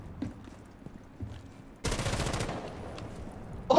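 Burst of automatic gunfire in Rainbow Six Siege, breaking in sharply after quieter indoor sounds and continuing as a dense, loud rattle for about two seconds, with a final sharp hit at the end.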